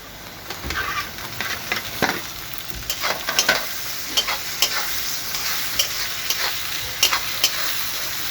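Tomatoes sizzle steadily in a pan for chicken curry while a spoon stirs and scrapes them in quick irregular strokes, close and fairly loud, with no voices.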